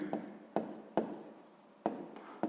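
Pen strokes scratch across paper during a sixth-grade math exercise, coming in short bursts with brief pauses between them, close and fairly quiet.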